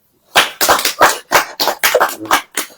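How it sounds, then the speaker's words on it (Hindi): Congregation at a Hindi church sermon clapping in unison, about a dozen sharp, loud, evenly spaced claps in a strong rhythmic beat. "ताली हो जाइए।"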